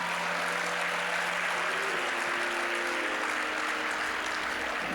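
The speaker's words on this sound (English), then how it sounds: "Please a round of applause for our sponsors." An audience at an awards banquet applauds steadily, a dense wash of clapping filling the room for several seconds without pause.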